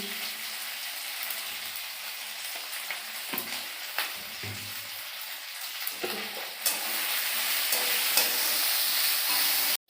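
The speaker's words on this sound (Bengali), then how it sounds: "পেঁয়াজটা ভাজা ভাজা হয়ে গেছে।" Onions fry in a pan with salt, a steady close sizzle broken by repeated stirring scrapes and taps, growing louder toward the end.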